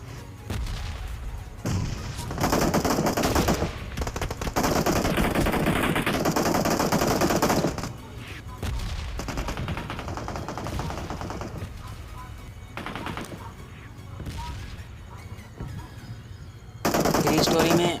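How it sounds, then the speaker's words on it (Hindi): Gunfire in PUBG Mobile at Pochinki: dense bursts of automatic fire and shots crackle in long loud stretches, easing into scattered fainter shots before another heavy burst at the end. "इंटर करते ही अब यहाँ पर काफ़ी सारी गन साउंड सुनाई देने लग जाती हैं"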